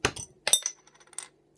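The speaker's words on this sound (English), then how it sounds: "A little bit of a hiss." A bottle of dark ale brewed with pale, chocolate malts and Fuggles hops (5.5%) is cracked open: a sharp cap pop and brief hiss, preceded and followed by a few light glassy clinks, close and fairly quiet, with no talking.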